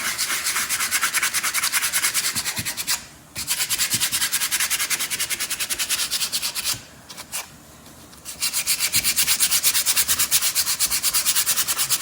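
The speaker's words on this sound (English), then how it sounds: "And then we'll sand them up quick." Sanding by hand with sandpaper: rapid, rhythmic back-and-forth rasping strokes, loud and close, continuing for several seconds with two short pauses between runs and no speech.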